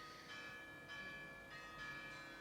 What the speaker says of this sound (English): Yes, there are the bells here, but I don't mind.